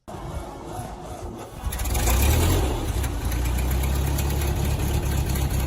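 A Ford N-Series tractor's 4-cylinder flathead engine from the early 1930s starts, catches and settles into a loud, steady low-rpm idle with an even chugging beat, heard up close and alone.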